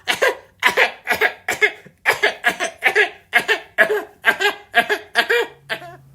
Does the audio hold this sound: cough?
yes